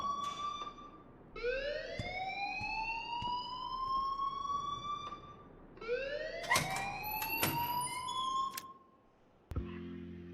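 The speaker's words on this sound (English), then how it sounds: "please turn off that alarm since that's your job" A wailing fire alarm sounds in the video game Life Is Strange, rising sweeps repeating loudly and close in two long cycles before cutting off abruptly near the end, with no speech.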